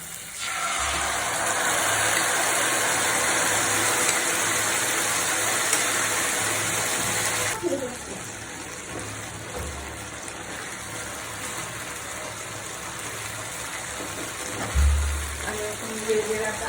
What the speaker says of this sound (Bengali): আমি যে সসের মিশ্রণটা করে রাখছিলাম সেটা এখানে ঢেলে দেব